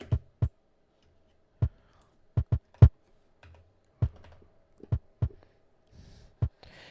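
Isolated kick drum hits thump one at a time at irregular intervals, short punchy booms separated by near silence.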